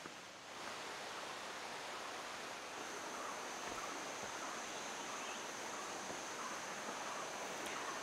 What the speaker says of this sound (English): we can hear birds, we can hear the river stream